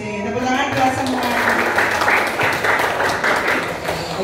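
Applause in a classroom, a steady clatter of many hands clapping together across the whole stretch, fairly loud and continuous, with faint voices mixed in.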